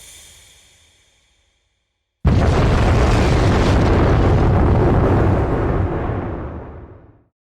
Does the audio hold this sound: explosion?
yes